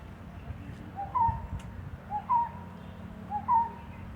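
Birds calling in a forest of silk cotton, flame of the forest, cashew and mahua trees, a soft repeated two-part hooting or cooing call heard three times at an even pace over a quiet background.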